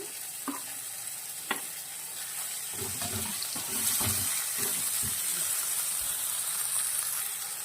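Mint with salt and turmeric frying in a pan for chicken curry, giving a steady sizzle throughout with a few clinks and stirring knocks that grow busier midway.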